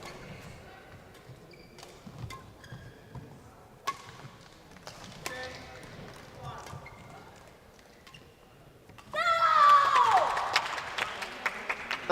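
A crowd applauds at a para badminton international in Dubai, breaking out loudly near the end after a stretch of sparse thuds and quiet court sounds, with a commentator talking.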